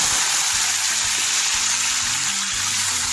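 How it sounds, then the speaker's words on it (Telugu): Mushrooms sizzle and fry in a couple of spoons of oil in a kadai. The hiss is steady and close for the whole stretch, with some faint low stirring underneath. "ఈ మష్రూమ్ కూడా వేయించేసుకుందాం."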